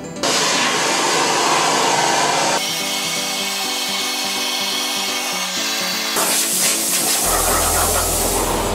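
A Jaguar V12 engine part is vapour blasted inside an Aquablast Vixen cabinet, producing a loud, continuous hissing blast whose tone shifts several times as the nozzle moves, with a low hum underneath near the end.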